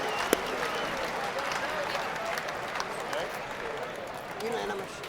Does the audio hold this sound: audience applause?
yes